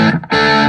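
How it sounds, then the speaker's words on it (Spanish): An electric guitar runs through an amp with tube distortion, giving a dense, saturated chord that dips briefly and then swells back, loud and close. "Esta es la distorsión valvular del equipo,"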